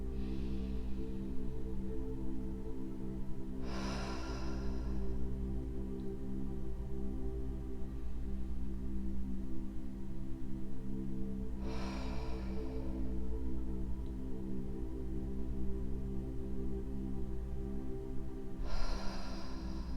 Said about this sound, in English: please take 3 nice deep breaths alongside me